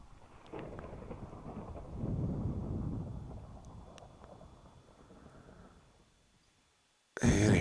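Minecraft thunderstorm with steady rough rain and low rumbling thunder building and fading over several seconds, dropping almost to silence before a sudden loud burst at the end.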